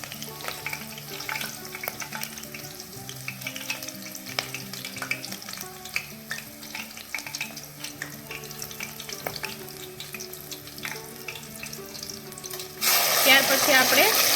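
Green chilies fry in hot oil for a cashew curry, a soft sizzle with scattered crackles and the clink of stirring, before a louder rush of running water takes over near the end.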